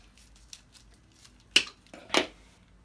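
Packaging of a Ninebot Segway ES2 electric scooter being cut open, heard as two short, close snips or slicing bursts about half a second apart amid quiet rustling.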